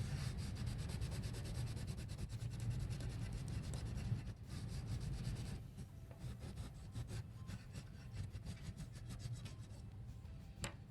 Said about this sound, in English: Now I'm going to take my blue crayon and I'm going to fill in the rest of this space up to my oval.